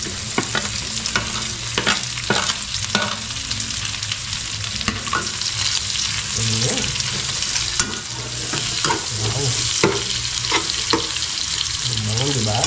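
Sliced onions fry and sizzle steadily in a hot pan, with repeated scraping and clacking as a utensil stirs them through a continuous crackling hiss; no one speaks.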